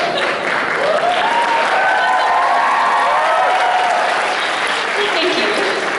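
An audience at a Q&A with Miss America claps in a loud, sustained wash of applause with faint crowd murmur underneath, close and even throughout.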